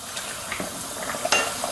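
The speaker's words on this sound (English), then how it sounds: "now we're going to mix this into that pot where the lentils are" Shredded chicken being stirred into a pot of cooking lentils for haleem, with soft scraping and clinking of a utensil against the pot over a faint sizzle, steady and close with no talking.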